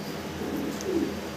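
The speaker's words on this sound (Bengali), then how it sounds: "দর্শক, এক জোড়া কবুতর দেখেন" A pair of fancy pigeons gives one short, soft coo close by, rising briefly over a low, steady background hum.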